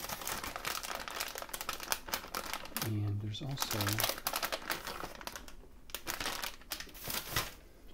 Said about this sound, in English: I just put them in this plastic bag.